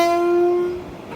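A train horn blasts at a crowded station, a loud, steady multi-tone blare held for under a second before cutting off, leaving low rumbling rail noise behind.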